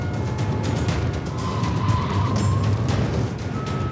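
A gendarmerie car accelerates hard onto the motorway toward Lille, a loud sustained engine roar with rushing road and tyre noise, close and continuous.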